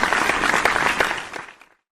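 Applause from an audience after a quiz team gives a correct answer, a dense burst of clapping that stays loud for over a second, then fades out and stops.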